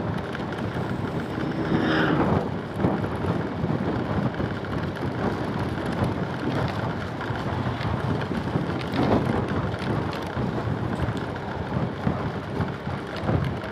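Wind roars steadily along a rural village road in Jatingarang, Pemalang, a loud, dense rush buffeting the microphone without a break for the whole stretch.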